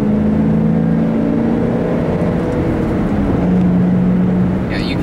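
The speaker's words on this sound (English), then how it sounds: "you can certainly hear a good induction sound out of this car" A 2007 Ford Mustang GT with a manual transmission and a K&N drop-in air filter gives a steady engine drone with a deep intake rumble, holding fairly constant with slight swells in pitch, loud and close throughout.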